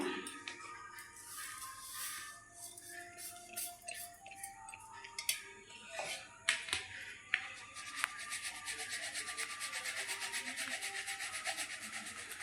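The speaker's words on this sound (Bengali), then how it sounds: "চাল আর ছোলা এখানে গুঁড়ো করে নিয়েছি এগুলো আমি চেলে নিব একসঙ্গে চেলে নিব" Ground rice and chickpea flour being sieved together, a quiet scratchy rubbing with light taps and a few sharp knocks, turning into a steadier shaking rustle toward the end.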